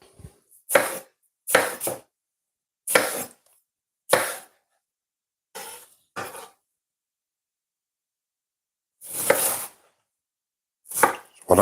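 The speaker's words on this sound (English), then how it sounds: "What I'm doing here, I'm just dicing some watermelon." A knife dices watermelon on a cutting board, sharp chopping bursts arriving singly and in pairs with pauses between them, close and distinct in a quiet kitchen.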